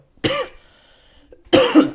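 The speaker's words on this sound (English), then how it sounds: "bad cough day" Two harsh coughs, close and loud, separated by a short pause.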